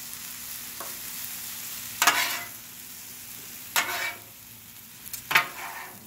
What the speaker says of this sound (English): Stir that out.